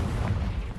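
A Confringo blasting spell explodes in Hogwarts Legacy as one dense, rumbling burst that fills the whole short moment, loud and close.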